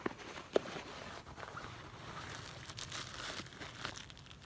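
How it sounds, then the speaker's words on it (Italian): Plastic bags rustle and crinkle as they are handled while packing a Tasmanian Tiger Essential MK II backpack, a steady soft crackling texture with a couple of sharper snaps near the start. "sacchetti di plastica per portare via le cose"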